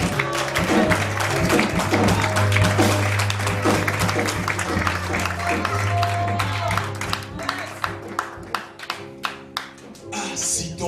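Church congregation applauding for the Lord, loud sustained clapping over music that thins into distinct rhythmic claps toward the end.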